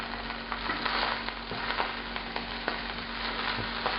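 Shrimp fry in oil in a hot cast iron skillet, a steady close hiss and crackle with small pops, continuous and fairly loud without any talking.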